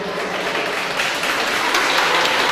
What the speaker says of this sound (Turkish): Bir alkışlar mısın şu grubu?